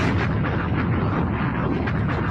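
A DJ bomb drop effect fills the whole stretch as one loud, sustained booming roar, like an explosion or artillery blast, dense and unbroken from start to finish with no voices over it.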